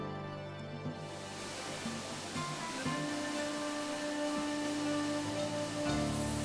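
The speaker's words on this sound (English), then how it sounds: "I came across this stunning waterfall which has carved its way through the solid stone for thousands of years" A waterfall in a Thai national park near Ubon Ratchathani cascades over solid stone, a constant broad rushing wash heard beneath steady background music throughout.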